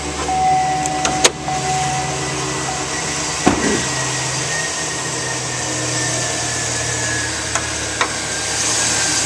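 A 2009 GMC Sierra 2500 pickup with a 6.0 liter Vortec V8 runs steadily at idle after starting, a low continuous engine drone with a couple of brief clicks and thumps, fairly close and alone without talk.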